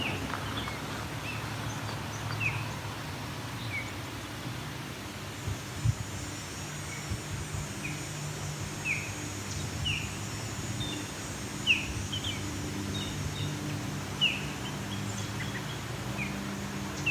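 Distant osprey calls ring out about half a kilometre away, short high chirps repeated every second or two across a quiet outdoor hush with a low background hum.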